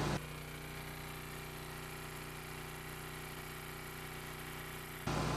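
A vintage generator engine runs at a steady, constant drone with an even mechanical hum, loud and alone, with no talk, cutting off sharply just before the end.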